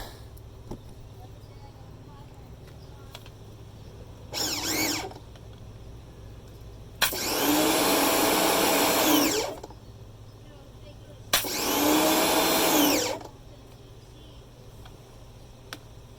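A mini power washer switched on runs in short bursts, a brief blip and then two loud buzzing runs of a couple of seconds each, separated by quiet pauses over a low background hum.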